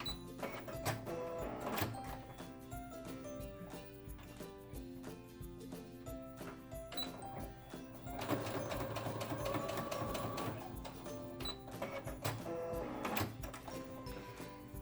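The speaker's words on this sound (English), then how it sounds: "And then just quickly sew those down." Home sewing machine stitching fabric for a face mask, motor buzz and rapid needle chatter in bursts of a few seconds separated by short pauses and handling clicks, close up, with no speech.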